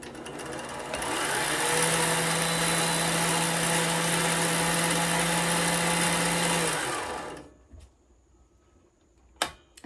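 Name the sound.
Rex 607z industrial sewing machine winding a bobbin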